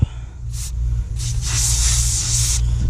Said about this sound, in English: I'll shake it up, and I'll spray it on the terminals.